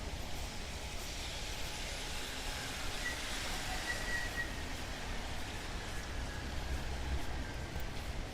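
Steady rain falls on a riverside street along the Guangzhou waterfront, a continuous even hiss with faint distant traffic beneath, no voices.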